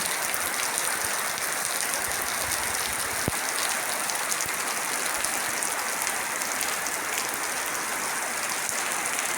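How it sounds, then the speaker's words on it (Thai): Steady rain falls outdoors, a dense even hiss of drops on surfaces that continues unbroken at moderate volume with no voices. "ฝนมาแล้ว"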